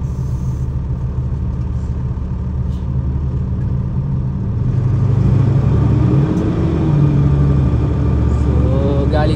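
Road traffic on Highway 10 between Surrey and Langley, British Columbia, a loud continuous low rumble of passing vehicles and engines, swelling as a vehicle nears toward the end, with a voice speaking over it.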